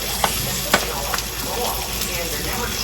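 Garlic, ginger and onion sizzle steadily in a hot pan, a continuous close hiss with a few light clicks of stirring.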